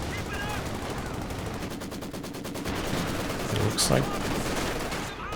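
Rapid machine gun bursts from a Maxim gun in the Company of Heroes 2 battle game, sustained rattling fire with distant explosions mixed in, running under a commentator's voice in a 2v2 match.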